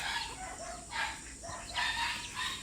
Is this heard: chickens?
yes